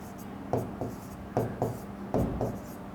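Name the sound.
writing on a board during a lesson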